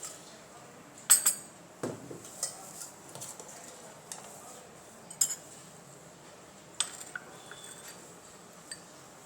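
Syrupy raseeli boondi spooned into a small bowl: scattered light clinks of the spoon on the bowl mixed with soft wet squishing, sparse and close, with no voices.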